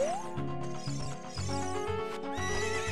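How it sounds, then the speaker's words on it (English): A horse neighs with a rising whinny inside Zelda: Ocarina of Time, set against steady game music and effects, loud and close with no talking. "Please get on the horse."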